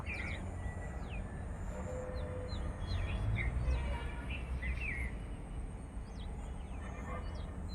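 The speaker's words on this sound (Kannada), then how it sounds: "ಆ ಚಿಲಿ ಪಿಲಿ ಕಲರವ" Birds chirp and tweet repeatedly over a constant low rumble, with quick high calls scattered throughout at moderate distance.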